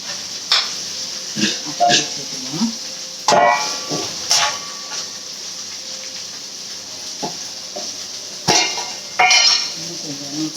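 A spoon scrapes and clatters repeatedly in a pan of sautéed onion, garlic and tomato, with irregular metallic knocks and stirs over a faint continuous sizzle.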